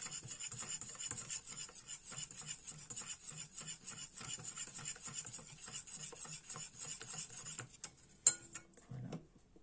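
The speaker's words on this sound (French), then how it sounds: "Je vais mélanger." A dessert mixture is stirred in a pot, giving a steady rhythmic scraping and rubbing of the utensil against the pan for several seconds before it stops with a clink.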